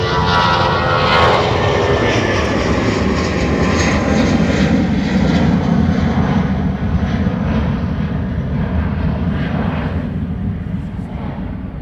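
A Ryanair airliner landing on runway 28 right at Dublin Airport gives a loud, continuous engine roar, slowly fading over about twelve seconds.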